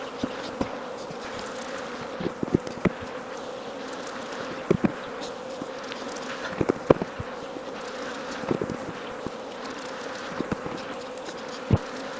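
A continuous, fairly loud drone of honeybees fills the air around a hive as honey supers are lifted off in Jacksonville, Florida, with occasional light knocks and clicks of equipment over the steady hum.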